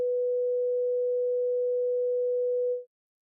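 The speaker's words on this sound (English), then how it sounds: "The sound is the same as a test tone" Steady pure sine test tone at one constant pitch, loud and unwavering for nearly three seconds before fading out into silence.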